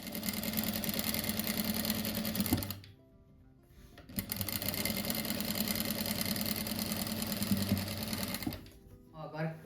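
A sewing machine stitches fabric blocks together for a rug in steady, loud runs, pausing briefly in the middle before restarting, with a voice talking over it.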